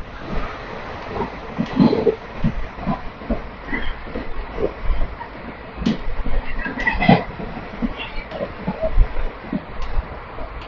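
The Villupuram–Dindigul Intercity Express runs on the rails with a steady loud rumble and rattle from inside the carriage, broken by uneven clicks and knocks from the track.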